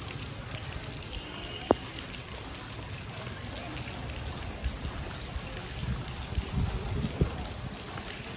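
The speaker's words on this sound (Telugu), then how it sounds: "చాలా పెద్ద వర్షం అండి" Heavy rain pours at a temple, a dense steady hiss with scattered louder drips and knocks throughout.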